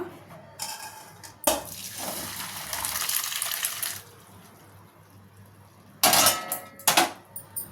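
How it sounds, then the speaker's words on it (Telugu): Boiled macaroni is tipped from a pot into a kitchen strainer: a loud clatter, then a rushing pour of water that fades, followed later by a few more sharp metallic knocks and splashes, with no voices. "ఉడిపోయిన ఇప్పుడు వీటిని స్టైనర్లో వడగట్టుకుందాం."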